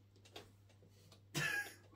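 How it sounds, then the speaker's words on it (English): A single short, sharp cough bursts out close by after a stretch of quiet room tone, then fades back to near silence. "I'm going to just cough over that last bit."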